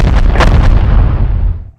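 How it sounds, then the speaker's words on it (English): Regular cannon shots from a pirate tabletop battle sound effect, a loud, dense booming volley lasting under two seconds, rolling and crackling before fading away, with no talk over it. "These are regular cannon shots."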